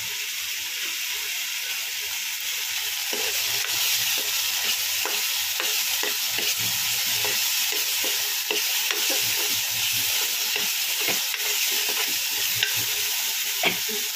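Ginger, green chilli and garlic paste fries in oil for a kachkola kofta, giving a steady close sizzle and hiss with occasional stirring scrapes throughout.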